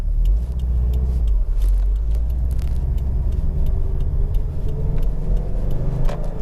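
A 2018 Subaru WRX STI with a short-throw shifter cruising on a smooth road, heard from inside as a steady low engine and tyre drone with a few light rattles and clicks, no one speaking.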